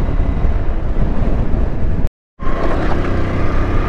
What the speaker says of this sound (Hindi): क्योंकि हवा बहुत तेज़ चल रही है ना इसीलिए यार बाइक में थोड़ी तेज़ हवा लगती है ना